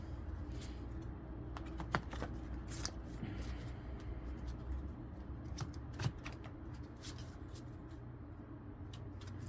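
Handmade oracle cards of uneven sizes being shuffled: soft, quiet riffling and tapping clicks repeat throughout, with a couple of sharper knocks, and no one speaks.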